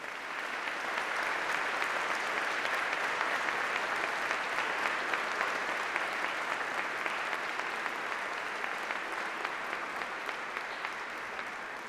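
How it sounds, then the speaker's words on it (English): Sustained, dense applause from a large audience at a university graduation ceremony, honouring the families and supporters of graduates; steady clapping carries on for about twelve seconds with no talking. "shall we have a round of applause for all those special people who are celebrating here with you today?"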